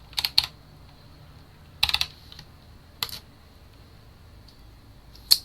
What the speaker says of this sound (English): I'll enter the password that I made.